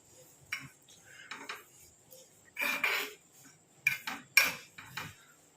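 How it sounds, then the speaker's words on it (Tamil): A spoon scrapes and clinks against a pan while an herbal hair oil mixture of henna and avuri powder is stirred over a low flame, in irregular bursts of metallic knocks and scrapes with quiet gaps between. "நல்லா இந்த மாதிரி கலந்து விட்டுக்கிட்டே இருங்க"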